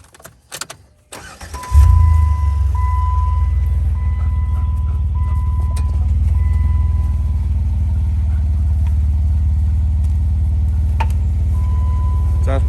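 A Jeep engine fitted with a new muffler starts up after a few knocks and settles into a steady, deep, close exhaust rumble at idle, with no talk over it.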